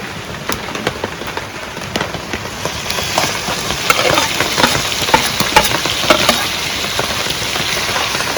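Spices crackle and sizzle in hot oil, tempered for a chicken bhuna, with a dense steady frying hiss broken by sharp pops that grow slightly busier toward the end.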